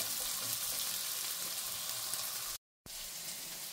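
Chopped vegetables and potato cook in a pot for chicken vegetable soup, giving a steady, close sizzle and bubbling hiss throughout, briefly cut to silence once before resuming.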